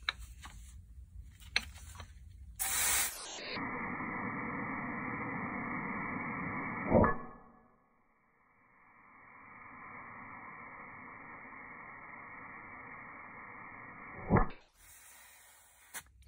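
Compressed air hisses steadily into a stuck brake caliper until a piston pops loose with a sharp burst, followed by a second long hiss and another abrupt pop, loud and close.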